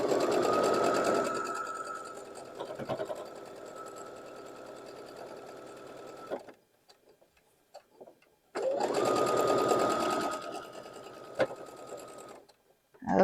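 A sewing machine stitching a quilt block seam for a Sawtooth Star block runs steadily and close, pauses for a couple of seconds of quiet handling, then hums through a second steady run.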